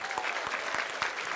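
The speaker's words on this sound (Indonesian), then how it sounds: "Oke, sebelumnya kita berikan tepuk tangan untuk Vanedut." Studio audience at a TV quiz and comedy show claps steadily in a dense, even burst of applause, with no voices over it.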